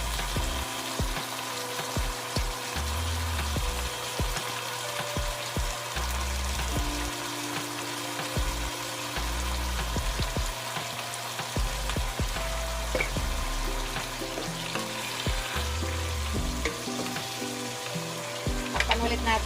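Pork and mixed vegetables fry loudly with liquid seasoning added, a continuous close sizzle and bubbling hiss with occasional stirring clatter and low rumbling under it, no speech.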